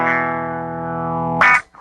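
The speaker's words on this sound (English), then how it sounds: "an EQ that amplifies higher frequencies more the harder I play" A sustained instrument note rings with a bright, boosted upper edge through a dynamic EQ that boosts highs harder with stronger playing, then a sharper, harsher accent flares briefly before a short final blip.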